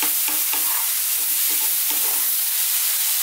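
Stirring in a pan of vegan dry mushroom masala with fresh cilantro just added, heat switched off: a string of soft scraping strokes over a steady low frying hiss, close and alone.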